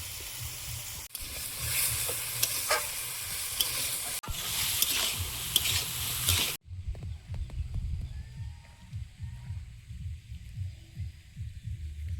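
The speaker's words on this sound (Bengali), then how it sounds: "আলুটা ভাজা ভাজা হয়েছে" Potatoes sizzle and crackle in a hot pan with cumin, ginger, salt and turmeric, loud and steady for several seconds, then quieter frying with intermittent stirring scrapes and taps.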